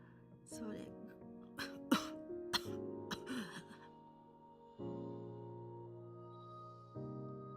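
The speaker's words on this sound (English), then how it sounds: "Mother Elder lapses into a coughing fit" An old woman breaks into a coughing fit in the video game Flowers, several sharp hacking coughs and throat-clearing bursts close up, followed by soft sustained music.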